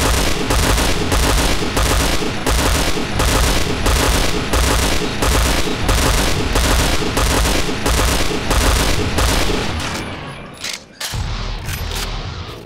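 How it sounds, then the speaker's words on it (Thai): P90 submachine gun from Point Blank fired in rapid, evenly spaced bursts on a virtual shooting range. The shots are loud and close, repeating steadily for about ten seconds before a brief pause and a final few rounds. "ต่อไปนี้จะเป็นการยิงแบบเป็นการกดชุดยิงเสมือนในสนามยิง"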